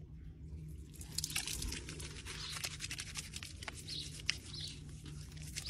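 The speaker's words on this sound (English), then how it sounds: "Go ahead and throw the water on." Water is poured over greasy hands coated in Grip Clean hand cleaner. It splashes, trickles and drips close by, quiet and continuous for several seconds, with a low background hum.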